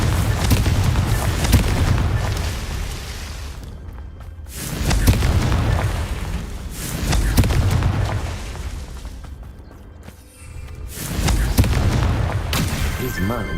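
Confringo explosion spell cast in the video game Hogwarts Legacy, heard as repeated loud booming blasts with deep rumbling tails, separated by brief quiet gaps.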